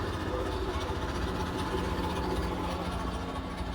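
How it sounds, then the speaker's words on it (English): A Predator 212 Hemi engine idles on a Yerf Dog go kart, a steady low rumble with even vibration, close and continuous throughout with no talking. "It's a 212 Predator Hemi"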